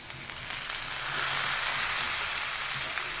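Chhana (paneer) for a chhana-cauliflower curry sizzles steadily in hot oil as it goes into the pan, a broad, hissing frying sound that swells slightly and holds, with no talking.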